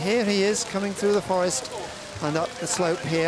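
Steady rain patters softly in a forest during an orienteering race, heard beneath someone talking continuously in the foreground.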